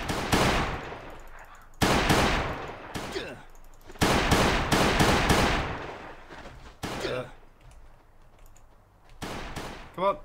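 Gunfire from an AI enemy in the video game Last Day on Earth: Survival, with loud automatic bursts in several rapid volleys, close and dominant.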